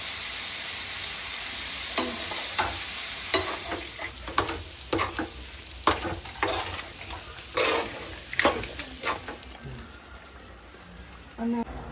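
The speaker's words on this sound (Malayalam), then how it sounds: "ചറവറ ചറവറ സൗണ്ട് കേൾക്കുന്നുണ്ടോ? ഇതാണ് ചെമ്മീൻ ഫ്രൈ." Prawns, about a kilo, frying in a pan while being stirred: a steady sizzle with repeated scraping stirs and clattering strokes, close and fairly loud, with no voices over it.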